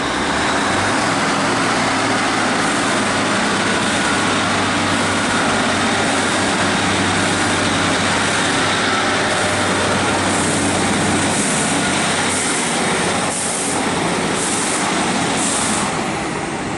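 Northern Class 150 diesel train 150147 pulling out of Stockport station, a loud steady rumble with a low engine drone underneath that eases slightly toward the end, no voices.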